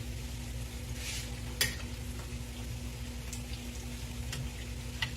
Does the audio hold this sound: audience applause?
no